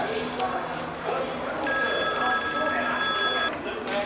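Telephone bell ringing indoors, a bright sustained electronic trill lasting about two seconds, heard under and between people talking nearby.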